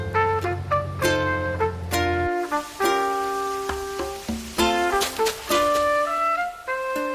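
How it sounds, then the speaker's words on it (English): Bright, bouncy synthesized melody from the video game Animal Crossing New Horizons, with plucked and chime-like notes in a steady, cheerful rhythm, played clearly with no talking over it. "That is the sound of the game Animal Crossing New Horizons"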